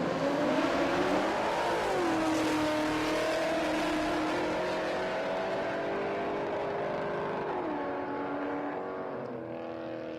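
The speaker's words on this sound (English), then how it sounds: "You can hear it tagging the limiter." Drag race car engine at Palmyra Raceway holding high revs and repeatedly bouncing off the rev limiter, a loud, steady roar with wavering pitch and stuttering dips throughout.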